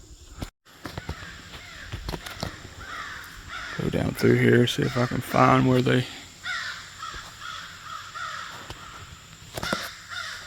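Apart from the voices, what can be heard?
crows cawing in Appalachian woods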